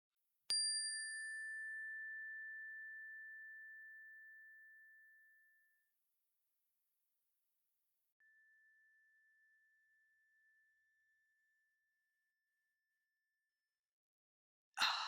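Meditation chime struck once, a clear bright ring that sustains and slowly decays over several seconds, then a softer lingering tone; quiet and near, without speech.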